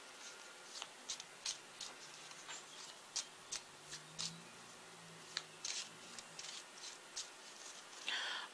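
Quiet, irregular card clicks and soft slaps repeat close by as a tarot deck is shuffled, ending in a brief riffle, with a faint low murmur underneath.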